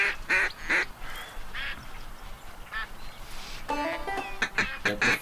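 Ducks quack in the Duck Dynasty hunting video game, a flock giving repeated nasal quacks and honks in uneven bursts at moderate distance, with brief talk in the background.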